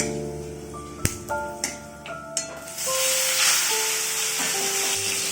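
Dry red chilli and panch phoron hit hot mustard oil with a few sharp crackles and pops, then a steady loud sizzling hiss takes over and continues to the end.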